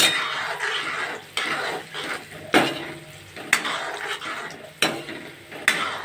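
Sweet potato pithe frying in a pan, with a spatula or utensil clinking and scraping against the pan in repeated sharp knocks over a soft, steady background.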